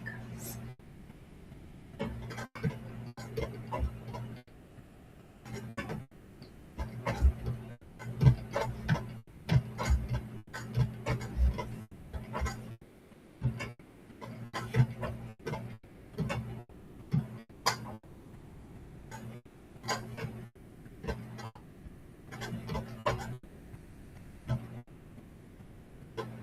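A sewing machine stitching decorative veins runs in short bursts of rapid ticking stitches, starting and stopping repeatedly, with a low steady motor hum, while a person talks quietly in between.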